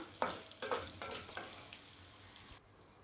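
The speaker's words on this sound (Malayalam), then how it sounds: "നമുക്ക് അതേ അളവിൽ മല്ലിയാണ് ഇട്ട് കൊടുക്കുന്നത് അതും കൂടി ഇട്ട് കൊടുത്തിട്ട് ഒന്ന് വറുത്തെടുക്കാം" Coriander seeds dry roasting in a pan for a bitter gourd chutney powder, with several distinct scraping stirs and light rattling in the first half, fading to a quiet hiss and near silence at the end.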